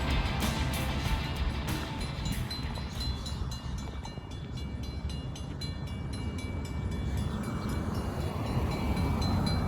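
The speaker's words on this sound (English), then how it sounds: "Here comes the train." A train approaching and passing a railroad crossing, a loud, continuous rumble of rolling wagons with rhythmic clacking and squeals on the rails, close by and heard without talk.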